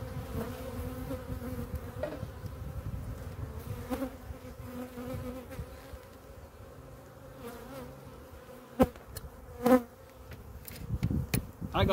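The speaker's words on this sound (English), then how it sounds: "Bees are getting riled up now." Honey bees, including drones, buzz in a dense, continuous drone around an opened hive in Pennsylvania, close and agitated, with occasional sharper passes near the listener.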